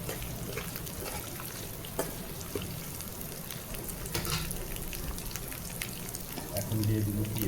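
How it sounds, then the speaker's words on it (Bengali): Panch phoron, ginger and garlic paste fry in oil with a steady, dense sizzle and occasional stirring knocks. Running water and faint background noise swell near the end. "পাঁচফোড়ন এবং আদাগুলো আমার ভাজা হয়ে গেছে।"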